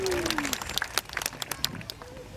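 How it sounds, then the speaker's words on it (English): Audience at a sea lion show at Blackpool Zoo claps in scattered, uneven bursts, moderately loud and fairly close, while a voice speaks over a public address system. "A nice big round of applause when she gets up there."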